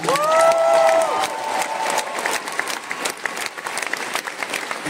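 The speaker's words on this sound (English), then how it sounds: "A round of applause, please." Concert crowd applauding at an arena show in Warsaw, dense and loud with some cheering at the start, then settling into sustained clapping.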